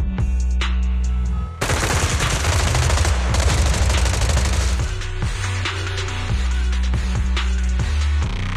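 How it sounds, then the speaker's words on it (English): Rapid automatic gunfire from Zenless Zone Zero bursts in after a short lead-in, loud and dense, layered over low pulsing game music and continuing throughout. "Gunfire? This pattern. Suppressive marching fire."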